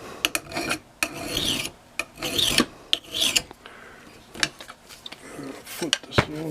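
A file rasps across the metal cutting blade of a tree branch lopper in repeated close, scraping strokes with an uneven rhythm and brief pauses between passes.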